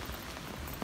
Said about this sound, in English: We've been dealing with heavy rain all day.